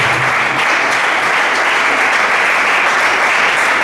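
An audience applauding at an event, loud sustained clapping from many people that fills the whole few seconds with an even, dense roar.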